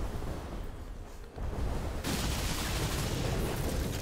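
Dense gunfire and blasts from the looter-shooter game Tiny Tina's Wonderlands roar continuously and loudly, swelling into a thicker wall of fire midway, with no talk over it.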